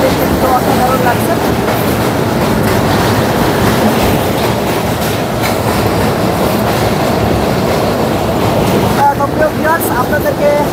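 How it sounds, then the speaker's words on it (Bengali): Inside the Tungipara Express passenger train near Hardinge Bridge, a loud, constant rumble of rolling wagons with rhythmic clacking of wheels over rail joints. "আজকে আমি যে ট্রেনটি ভ্রমণ করছি এটা হচ্ছে টুঙ্গিপাড়া এক্সপ্রেস"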